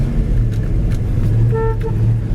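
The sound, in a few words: car horn of a 1967 Mercury Cougar XR7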